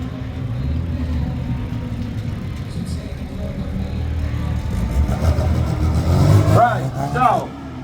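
A Mini auto-testing stunt car at the Brands Hatch Mini Festival 2024 revs its engine during stunts, a steady loud roar that swells near the end, with people talking over it.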